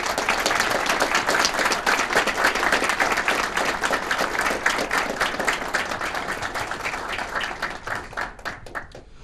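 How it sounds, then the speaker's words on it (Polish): A crowd at a regional political party congress applauds steadily with dense, continuous clapping that gradually thins out and fades toward the end. "Proszę więc o wielkie brawa dla nich."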